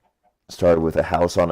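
Chickens in a video-game chicken coop, a run of close, fairly loud clucks and squawks in quick rhythmic bursts after a moment of silence.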